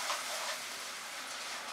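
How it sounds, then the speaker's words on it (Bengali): Spiced masala with half a teaspoon of ground spice and a few spoons of water frying in a pan over medium heat for a Bengali cabbage and prawn curry, giving a steady close broadband sizzle and hiss throughout, with no talking. "মিডিয়াম আঁচে মশলাটাকে আমি কষিয়ে নিচ্ছি"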